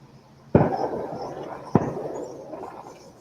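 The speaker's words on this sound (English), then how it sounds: "but they're just shooting off fireworks." Daytime fireworks being shot off in the distance, two sharp booming bursts about a second apart, each trailing into a crackling, echoing rumble.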